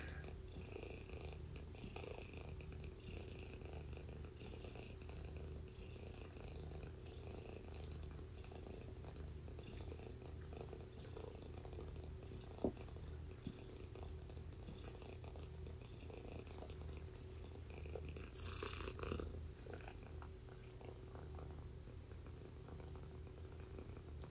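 A six-day-old kitten purrs softly and continuously, a faint low rumble held steady throughout, with a brief small sound near the end.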